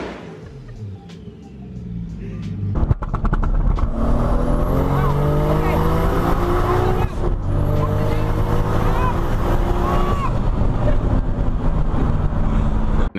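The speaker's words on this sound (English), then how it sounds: "But Drew, does it two-step?" A supercharged Lamborghini Huracan Performante idles quietly, then its two-step launch control fires a sharp burst of rapid exhaust pops that settles into a loud, held, roaring engine note close by.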